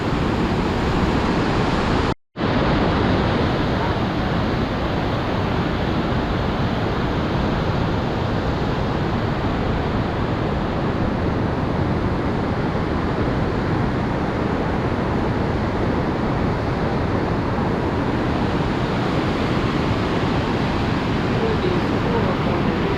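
Rushing whitewater rapids near the brink of Niagara Falls, a loud, continuous broadband roar with no pauses, close and unbroken throughout.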